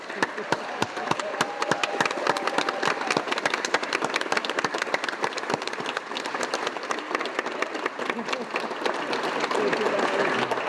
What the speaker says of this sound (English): So let's give a round of applause for these two groups.